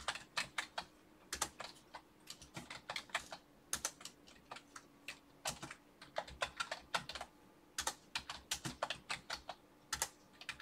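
Steady, busy typing on a computer keyboard, rapid clattering keystrokes in irregular bursts, close and fairly loud in a quiet room, with no voices.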